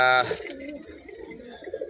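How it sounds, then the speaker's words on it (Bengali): Pigeons coo in soft, low, rolling murmurs nearby, with a brief voice heard at the very start. "খালি উড়ানো কবুতরগুলো ছাড়ছি"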